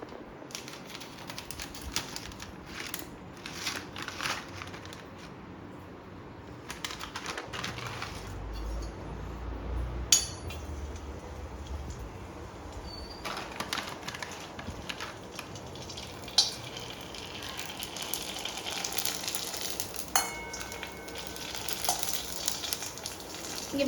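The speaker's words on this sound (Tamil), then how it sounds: "நம்ம இப்போ பூரி போடலாம்." Puris fry in hot oil with a soft, quiet sizzle and scattered clicks and knocks, fairly faint and without talk.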